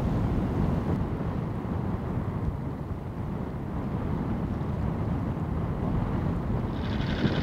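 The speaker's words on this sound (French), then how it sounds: "Le moteur de l'annexe a démarré au quart de tour. Depuis il ronronne tranquillement." Small dinghy outboard motor running steadily on a solo sailboat trip toward Istanbul, a continuous low rumble mixed with wind noise and water sounds, with no talking.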